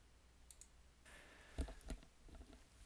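A computer mouse clicks a few times, faint and close, with a couple of soft sharp clicks among quiet room noise.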